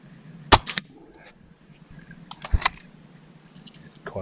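Two sharp, close reports from a small Webley and Scott Jaguar airgun, about two seconds apart, each with a quick mechanical clack right after, over a quiet room background.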